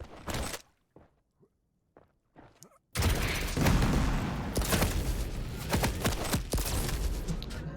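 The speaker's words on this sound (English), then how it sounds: "machine gun, super machine gun" Rapid machine gun fire in a competitive video game duel, a loud sustained stream of shots breaking in after a few sparse footsteps and clicks, continuing to the end.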